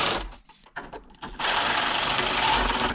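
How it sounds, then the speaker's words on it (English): A power screwdriver drives screws into a mortise lock body set in a door, with short stop-start bursts at first, then a long steady whir up close. "we're gonna go ahead and screw this mortise body all the way in"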